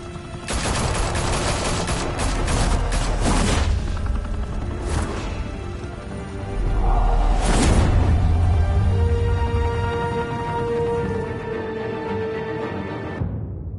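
Bursts of rapid gunfire and heavy volleys erupt in a Telltale Batman game scene in Gotham, with loud rattling fusillades early on, a second strong burst midway, then fading rumble and ringing tones.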